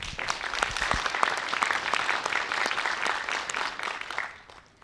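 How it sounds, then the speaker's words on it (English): Audience applause at a research presentation evening, a dense wash of many hands clapping steadily for several seconds before fading out near the end. "join me in giving her a round of applause"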